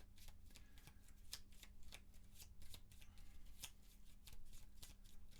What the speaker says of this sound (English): All right, that is fully shuffled.